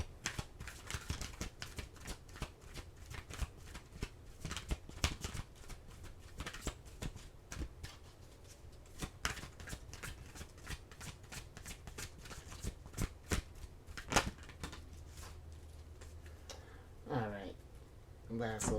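Oracle cards being shuffled by hand in a series of quick papery riffles and soft slaps, close and fairly quiet, with a short rustle near the end.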